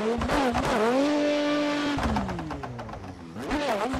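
A BMW E36 competition car in a drifting video game screams through a run, its high-revving engine rising and falling in sweeping pitch with tire squeal, loud and close, with no talking.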